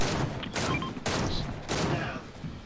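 Rapid gunfire in a Fortnite match, three loud bursts of sustained shooting about half a second apart, close and dense, with faint voices underneath.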